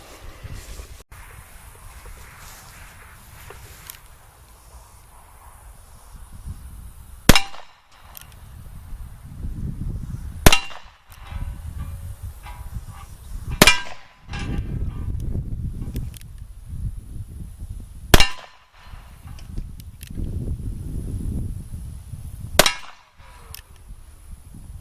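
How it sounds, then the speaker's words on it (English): Five sharp, loud gunshots from a .45 Long Colt conversion revolver firing MagTech Cowboy Action loads with 250 grain bullets, spaced several seconds apart outdoors, with faint rustling and handling noise between shots. "Okay, as you can see, I just shot 5 rounds"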